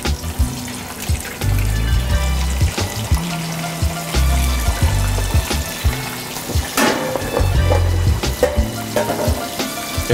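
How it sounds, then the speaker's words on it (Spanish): Fish frying in hot oil for Tipitapa-style fried fish, a steady close sizzle with bursts of crackle and occasional clatter and water-like splashing throughout, no voices. "Esta es la manera de que ustedes deben de hacer la frita del pescado"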